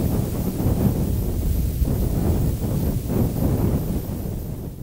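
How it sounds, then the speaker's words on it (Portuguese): Strong wind sweeps sand along the coastal dunes of Piauí, Brazil, heard as a steady loud roaring rush with gusty buffeting on the microphone throughout and no talking. "É a areia levada pelo vento."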